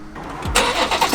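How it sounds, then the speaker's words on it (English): A BMW M140i engine with upgraded intake and charge pipes cranks briefly, then catches and fires up into a loud, rumbling idle, close by. "let's give it a start up and make sure the car doesn't blow up"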